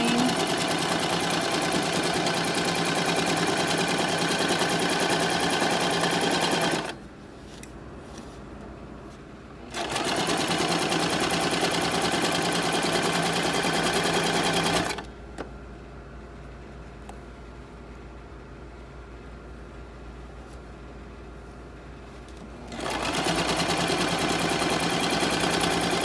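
A sewing machine stitches swimsuit fabric in steady, loud runs of rapid whirring, stopping twice for a few seconds of quiet before starting up again.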